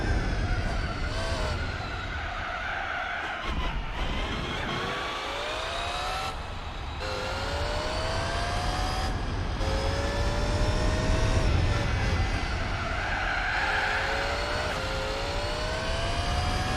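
A knockoff Ferrari, the Cizeta, races around the Monaco street circuit in Gran Turismo 4, its engine revving loud and continuous with rising and falling pitch sweeps through gear shifts, plus a few brief dips.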